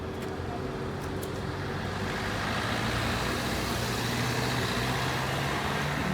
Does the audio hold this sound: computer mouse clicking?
no